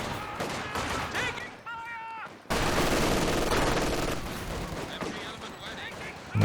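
Rapid bursts of rifle and machine-gun fire crackle through a battle in Company of Heroes 2, with dense overlapping shots, a brief lull, then a loud renewed volley.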